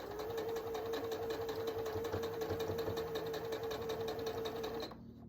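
A sewing machine stitches quilt pieces in a fast, even mechanical patter with a steady hum, running continuously at close range before stopping abruptly near the end.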